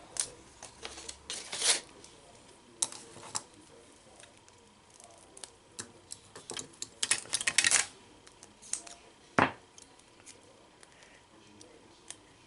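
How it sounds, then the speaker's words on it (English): Scissors snip through pieces of strong tape for a paper plate box craft in a quiet room: a scatter of short crisp cuts and rustles, with the densest bursts near the start and middle. "I'm just going to cut my pieces of tape and put on there."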